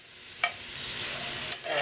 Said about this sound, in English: We're just going to sear them a little bit on the grill